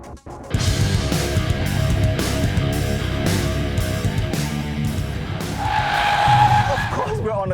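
A Mercedes-AMG 45 series car, such as an A45, CLA45 or GLA45, driven hard on a race track, with a loud, close engine drone, shifting revs and a tire squeal near the end.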